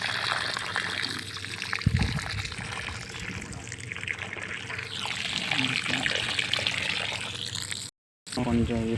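Water poured onto plants on a farm, a steady trickling, splashing flow heard under someone talking, with a brief dropout near the end.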